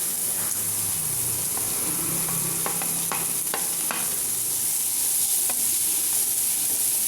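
Onions sautéing in hot oil for a mixed vegetable sabji, a continuous close crackling sizzle with several sharp stirring scrapes in the first few seconds, no voices.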